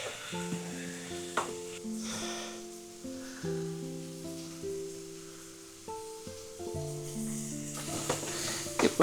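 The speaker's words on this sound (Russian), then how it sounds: "пускай потихонечку это у нас так пережаривается" Mushrooms seasoned with pepper and salt fry in a pan for creamy mushroom soup, giving a steady close sizzle with occasional stirring scrapes over soft tonal background sounds.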